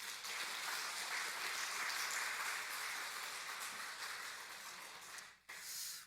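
A Korean church congregation at a Sunday worship service applauds the Hallelujah choir and the worship team, a steady, fairly quiet wash of clapping that thins slightly before a brief dip near the end.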